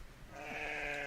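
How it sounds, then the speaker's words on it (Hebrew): A sheep bleats once, a single drawn-out nasal call that swells in after a quiet start and holds fairly close and clear, alone without talk. "זה כבש"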